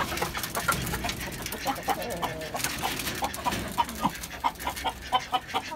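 Domestic laying hens cluck and chatter nearby in a steady, busy chorus, with other birds audible in the background.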